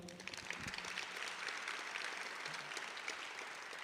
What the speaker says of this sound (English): Give yourselves another round of applause for being here.